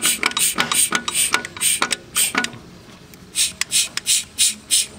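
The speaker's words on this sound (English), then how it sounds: "Put my vacuum pump on there, and I'm going to pump it up." Rhythmic squeaky pumping strokes of a hand vacuum pump on a Ford Windstar actuator that is not holding vacuum, about a dozen in two bursts separated by a short pause, close and fairly loud.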